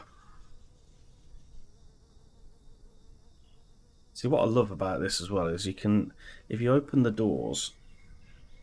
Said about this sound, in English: you can hear the birds tweeting